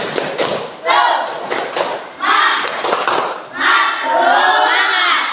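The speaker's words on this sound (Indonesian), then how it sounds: "Tepuk semangat." A group claps a rhythmic, patterned chant in a school morning routine, bursts of sharp claps in distinct phrases with short pauses between them, crowd voices mixed in.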